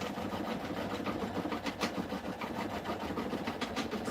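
A sewing machine runs steadily, stitching foam down onto fabric with a continuous close mechanical whir and fast needle rhythm, fairly quiet with no voices.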